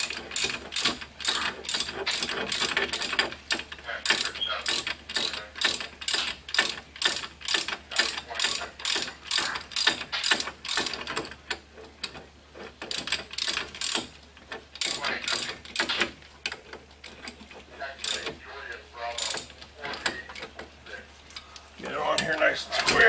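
A hand ratchet tightening bolts on the front brakes of a 1993 Saturn, rapid repeated clicking strokes in bursts with short pauses, close and clear, ending with a louder final pull.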